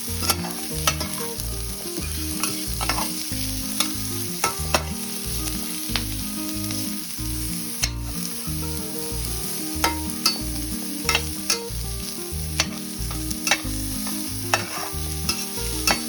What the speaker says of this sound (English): This is stir fry, so we have to constantly fry all through.